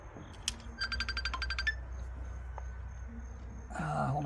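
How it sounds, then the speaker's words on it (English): A phone rings with a rapid pulsed electronic ringtone that trills briefly and then stops, heard at moderate distance over a low steady hum in a workshop during a repair, with a voice starting at the end. "Hold on, I'm getting a phone call."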